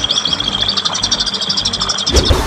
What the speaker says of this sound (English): known as Philippine Glossy Starling. It's the aviary!